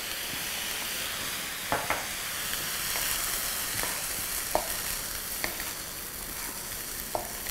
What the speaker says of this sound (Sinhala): මේක නිකන් චිරිචිරි ගාලා වගේ. ඒ කියන්නේ දැන් ඔන්න බත් එක රත් වෙන